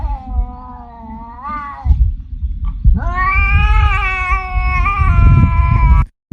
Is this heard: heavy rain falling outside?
no